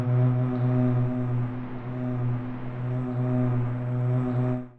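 A sung vocal recording pitched down and processed with granular synthesis in Granulator 3, a low droning sustained tone with a slightly wavering, grainy texture, heard alone and fading at the end.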